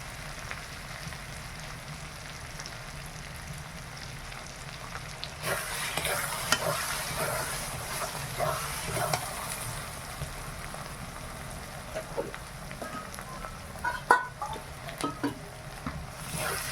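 Chicken fries with turmeric and chili powder in a pan, a steady loud sizzle running throughout, joined by repeated scraping stirs that grow busier and louder in the second half.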